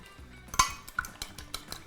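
Eggs cracked and beaten in a bowl while making Turkish kadınbudu köfte: one sharp crack, then a run of light, rhythmic clinks of utensil against dish, close and fairly quiet.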